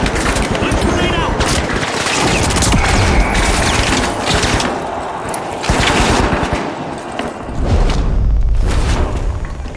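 Dense, loud video game combat with rapid gunfire layered over heavy grenade blasts, a near-constant barrage that swells in several waves across the whole stretch.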